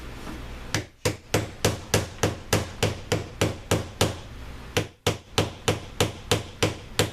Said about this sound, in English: So I'll just start hammering.